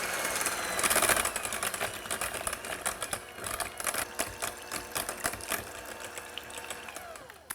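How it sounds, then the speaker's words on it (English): Electric mixer blending butter, cream cheese and citrus juice for a buttercream glaze: a steady, close whirring motor with rattling beaters that rises in speed. "starting out with low speed and then gradually increasing the speed until the butter, the cream cheese, and the citrus juice is all blended"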